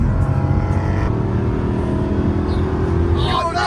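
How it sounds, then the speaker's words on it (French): A Rolls-Royce and an Aston Martin race, engines roaring loudly and continuously with a rising rev near the end, while voices talk over the engine noise. "est-ce que t'accepterais une invitation à faire une course entre ta Rolls-Royce et mon Aston Martin?"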